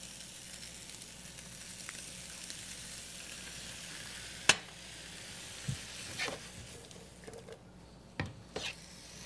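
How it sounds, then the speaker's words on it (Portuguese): Vegetables sautéing with soy sauce (shoyu) in a pan give a faint, steady sizzle, broken by a few soft clicks and scrapes of stirring, with no one speaking. "refogando com shoyu"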